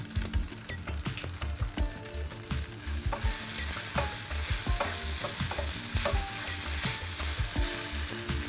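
Flattened rice (poha) stir-fries in a pan, a bright sizzle under quick, rhythmic scraping and tapping of a spatula, close and continuous.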